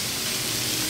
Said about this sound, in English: Let's just throw this around in the onions, the rampa, the garlic and the chili just for a few seconds.